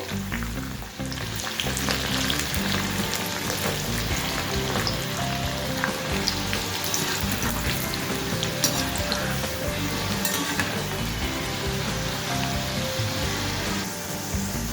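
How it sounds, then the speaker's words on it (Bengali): Corn kernels frying in hot oil give off a loud, continuous close-up sizzle with bubbling crackle and occasional stirring scrapes, no voices. "কর্ন ভেজে নেওয়া হয়ে গেছে, একটু লালচে করে ভেজে নিতে হবে"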